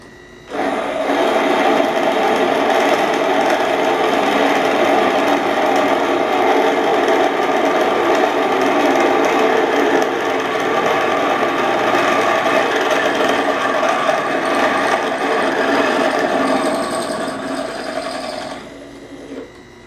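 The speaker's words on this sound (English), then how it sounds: "Come in with our drill bit." A loud, steady high-pitched whine of a worn drill bit boring into metal runs continuously for nearly twenty seconds, close up, then cuts off abruptly.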